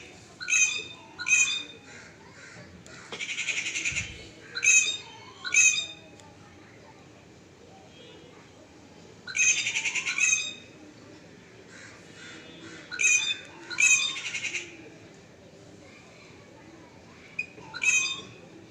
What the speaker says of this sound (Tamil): இது இன்னொரு பறவை, 2 பறவை இருக்குது.